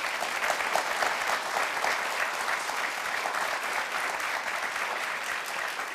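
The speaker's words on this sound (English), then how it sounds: "Please give her a round of applause for that." Steady applause from a studio audience on a talk show, a dense, continuous wash of clapping that holds at an even level throughout.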